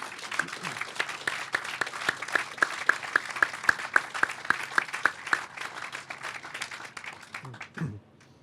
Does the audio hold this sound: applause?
yes